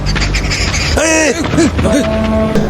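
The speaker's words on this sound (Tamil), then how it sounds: "ரஜினி நடந்து வரும்போது மேல காக்கா சவுண்ட் எஃபெக்ட் கேக்குது" In a Coolie movie trailer, a crow sound effect gives several loud, close, harsh caws in quick succession over a dense soundtrack.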